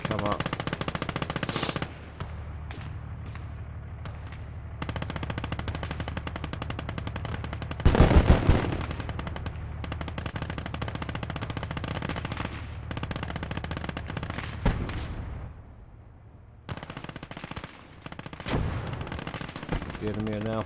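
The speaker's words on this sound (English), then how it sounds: "We've got a machine gunner sitting on the hill here, overwatching." Machine gun fire and battlefield gunfire from the WWII strategy game Gates of Hell, with British forces facing an enemy attack, runs steadily under the mix, with a louder burst of rapid shots around the middle and dense combat ambience throughout.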